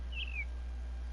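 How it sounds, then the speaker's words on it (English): A bird in the Minecraft video game gives one short, clear, slightly falling whistle-like call, near and alone over a steady low hum. "So whenever the bird makes their noise, it sounds like,"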